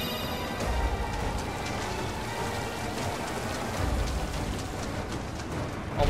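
Steady rain in the Kingdom Hearts III video game, a dense continuous wash of falling drops with no pauses, moderately loud and heard alone without any talking.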